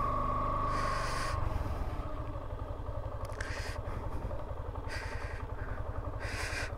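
A Yamaha FZ-S V3 motorcycle engine runs close by, its revs climbing and dropping between steady idle stretches, with a rhythmic mechanical pulse and a brief whine at the start.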